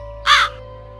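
A single short, loud caw from a crow in a Hindi animated moral story, rising sharply and fading within half a second over a faint steady background hum.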